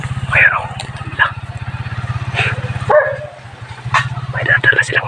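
Several sharp barks from a dog outdoors ring out among voices talking close by, with a constant low rhythmic engine chug underneath.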